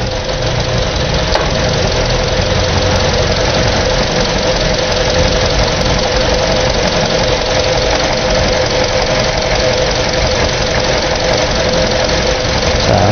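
A car engine runs with one ignition coil disconnected, giving a loud, steady idle with a rough, knocking vibration throughout.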